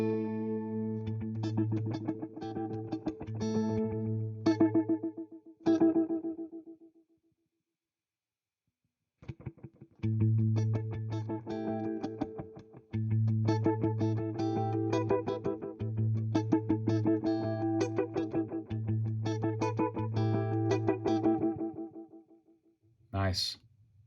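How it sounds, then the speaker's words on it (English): Electric guitar played through a Morley warble delay pedal with the delay time turned up, chords and notes ringing out with repeating echoes, a brief silent gap midway, then a sharp final strum. "let's take our delay time up a little bit."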